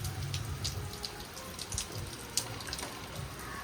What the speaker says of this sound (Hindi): आज फिर से बारिश लगी है, और वो भी ऐसी नहीं, बहुत ज़ोरों शोरों से बारिश लगी है